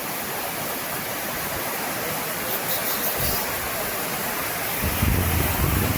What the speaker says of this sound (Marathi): इकडून पाणी बघा किती वाहत आहे डेंजर पाणी होत आहे